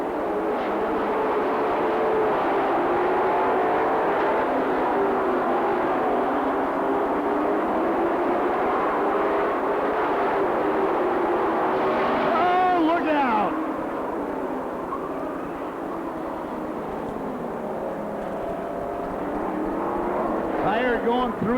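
Race cars roar steadily around the track during a AAAA feature at the 1998 Bahama Bracket Nationals, a dense continuous engine drone with a brief whining pass partway through, heard beneath a race announcer's steady commentary.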